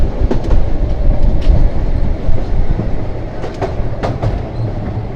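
The Saikat Express train from Chattogram to Cox's Bazar runs on a foggy morning, heard from inside with a loud rumbling roll and rhythmic clickety-clack of wheels over rail joints and sharp metallic clicks, no voices.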